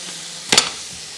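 Whole chillies are dropped into hot oil while cooking yakhni pulao, giving a brief sharp burst of spitting over a steady background sizzle.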